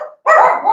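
A single sharp dog bark rings out loud and close after a brief softer yelp.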